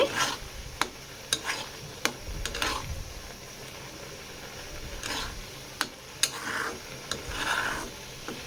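A spoon stirs coconut filling for patishapta in a pan, scraping steadily with repeated sharp taps against the metal over a low sizzling hiss.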